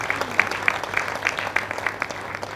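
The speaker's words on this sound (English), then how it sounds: "Round of applause." Applause from an audience at a tech week event, moderately loud and steady with individual claps standing out, sustained for a few seconds and fading slightly.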